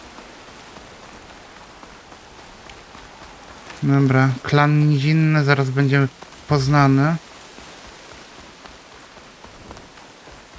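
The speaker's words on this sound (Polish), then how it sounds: "Ale leje tutaj, no." Heavy rain in the video game Horizon Forbidden West hisses steadily throughout, while someone speaks briefly over it in the middle.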